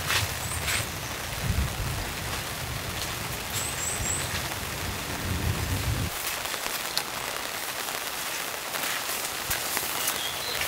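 Steady rain falling on a forest campsite at about 500 metres elevation during a downpour, a constant hiss of drops on the ground and gear, with faint birdsong above and low thuds early on.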